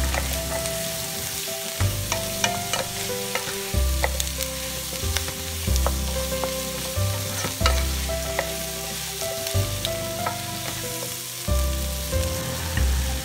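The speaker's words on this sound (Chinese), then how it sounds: "芹菜和洋葱， 炒1分钟就可以了，不要炒得很软烂啊" Carrot, celery and onion stir-frying in a hot pan as turkey stuffing, with steady sizzling and repeated scraping and clattering of a utensil against the pan, close and loud with no talk.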